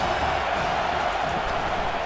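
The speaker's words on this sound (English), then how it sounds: "this crowd is turning it up a notch" Stadium crowd noise in a PS5 College Football 25 simulation of Alabama vs Tennessee: a dense, steady roar of cheering fans throughout, without distinct peaks.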